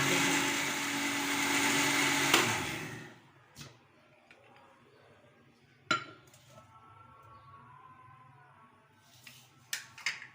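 Electric hand mixer beating homemade cake batter with sugar, a steady loud whir for about three seconds that cuts off, followed by faint clinks of utensils against the bowl.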